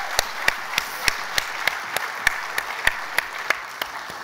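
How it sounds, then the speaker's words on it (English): An economic summit audience gives a round of applause: regular, evenly spaced claps ring out over a soft background of many hands, loud and close, lasting about four seconds with no talking. "please, let's give a round of applause to Neale for stepping up for this"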